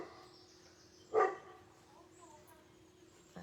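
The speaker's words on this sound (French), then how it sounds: "Il y a le chien qui se met à aboyer. Avec une grosse voix en plus." A dog gives a single deep bark, faint and distant, in an otherwise quiet indoor room, followed by low background hiss.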